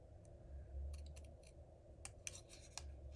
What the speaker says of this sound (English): Just cut it out.